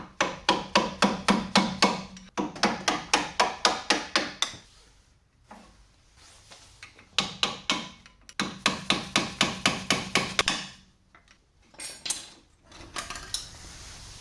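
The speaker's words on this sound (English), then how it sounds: "So I'm gonna remove the old brake pads." Old front brake pads are knocked and pried out of the caliper on a 2016 Hyundai Veloster Turbo, producing rapid bursts of sharp metallic tapping close up, with brief quiet gaps between the runs.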